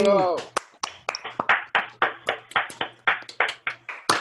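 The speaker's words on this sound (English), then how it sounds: "maybe we can all clap for Daniel Litt for organizing this" An audience at an academic conference claps and cheers, with a sharp burst of claps repeating roughly twice a second, fairly close.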